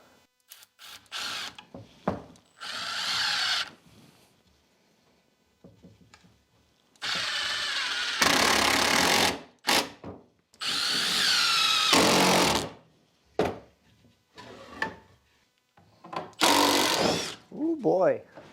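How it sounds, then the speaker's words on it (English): Power drill driving screws into a wooden nailer block in a garage workshop, with several loud whirring bursts of a few seconds each separated by pauses and handling noise, close up. "I'm going to take a nailer block, screw it into the side there, and then I'll have this to screw into the wall."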